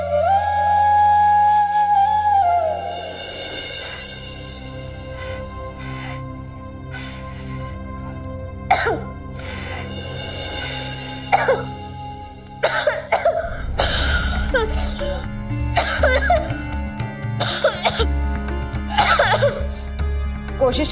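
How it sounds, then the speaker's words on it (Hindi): Repeated coughing fits from a woman unused to household chores such as cooking, heard close amid kitchen clatter and background music, with bursts of sound toward the end. "आदत नहीं है इसलिए खांसी आ रही है"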